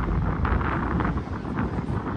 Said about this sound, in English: don't know if you be able to hear because it's very, very windy